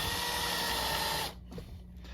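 A drill bit slowly cutting into a model train coupler mount on an LGB center depressed car, a steady close whirring grind that stops abruptly partway through, leaving faint handling noises.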